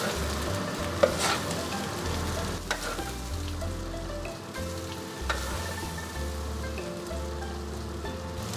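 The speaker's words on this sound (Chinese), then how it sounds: "米豆腐下锅。" Thick-cut rice tofu hits a hot wok in a Sichuan home kitchen and stir-fries with a continuous loud sizzle, broken by occasional spatula scrapes and clanks. No one speaks.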